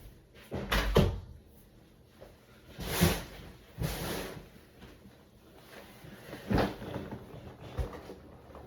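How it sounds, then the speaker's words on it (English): A door being shut indoors: several knocks and thuds, with clear bumps near one, three, four and six and a half seconds, over a low background with no talking. "Let me close the door."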